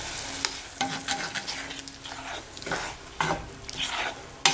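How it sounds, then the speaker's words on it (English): Ground paste with turmeric sizzles in a pan for lemon shrimp curry, stirred with irregular scraping strokes over a steady frying hiss. "Stir it well."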